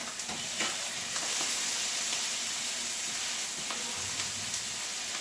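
Mushroom Swiss hamburger patty sizzling in a hot pan, a steady loud frying hiss with occasional crackles and spatters running continuously without talk.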